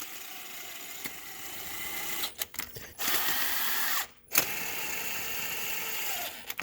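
A power tool gun spins a spark plug into a 2006 Lexus IS350 engine with a steady whirring drone, broken by a few short pauses and restarts, close and alone.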